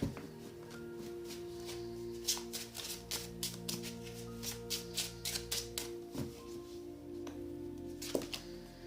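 Tarot cards being shuffled and drawn from a deck, a run of soft close taps and slaps in quick bursts with a few separate card flicks near the end, over a quiet background hum.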